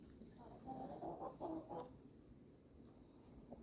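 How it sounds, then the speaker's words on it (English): Two cockerels making soft, low clucking calls close by, faint against a quiet farmyard background. "So these two cockerels are still getting on okay."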